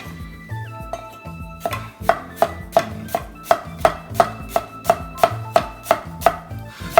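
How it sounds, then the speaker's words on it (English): A Dalstrong Gladiator Series 7-inch nakiri knife chops onion on a cutting board with sharp, evenly spaced knocks, about fifteen crisp strikes in a steady rhythm, close and alone. "So just cut up some onion."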